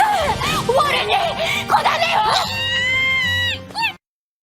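Anime cat meows, a few high wavering cries that end in a sustained drawn-out yowl, with other voices mixed in.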